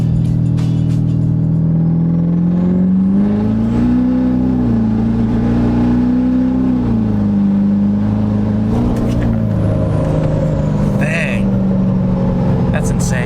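A truck engine rumbles steadily close by, its pitch rising and falling as it accelerates, with faint voices and rattles over the drone.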